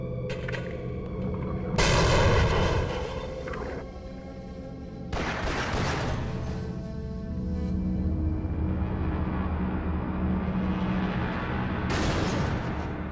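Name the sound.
explosions and gunfire in the video game Half-Life: Source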